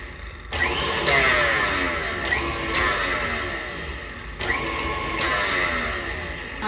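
An electric mixer whirs at slow speed through egg white batter for a low-carb, gluten-free bread, its motor hum rising and easing in repeated passes, close and fairly loud, with no talking.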